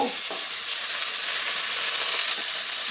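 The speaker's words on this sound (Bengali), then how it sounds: "তারপর আমি এর মধ্যে এক কাপ কুচি কুচি করে রাখা পেঁয়াজ দিয়ে দিব" Chopped onions hitting hot oil flavoured with cinnamon give a loud, dense, continuous sizzle close up, with no talking.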